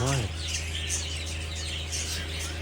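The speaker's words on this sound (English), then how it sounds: "All these birds." Many small birds chirp and tweet together in a busy, overlapping chorus at a large open pet market in China, with a brief voice at the start and steady background hum.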